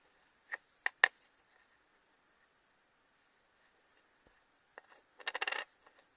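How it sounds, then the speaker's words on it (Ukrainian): Ukrainian 2-hryvnia coins from 2019 are turned over on a hard surface, giving a few sharp metallic clicks, then a quick rattling cluster, close and quiet in a silent room. "Тепер перевернемо монети"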